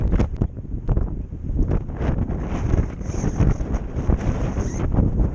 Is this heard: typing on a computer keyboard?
no